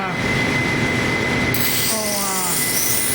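Knife edge held against a spinning grinding wheel, a steady high metallic grinding whine with sharp scraping squeals rising in the second half, loud and continuous.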